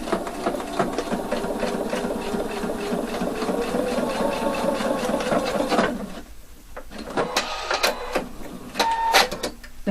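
A sewing machine stitches a side seam on a waistband with facing at one-centimetre seam allowance, a fast close rattling run for about six seconds, then stops, followed by a few short clicks and handling knocks.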